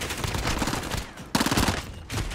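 Automatic Grau 5.56 rifle fire in a first-person shooter game, two sustained bursts of rapid shots separated by a short pause, loud and close with no voices.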